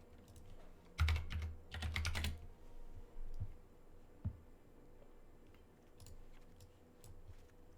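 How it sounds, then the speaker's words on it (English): Computer keyboard typing comes in two quick bursts of keystrokes close by, with a few scattered clicks afterward against a quiet room; no talking. "Typing is hard."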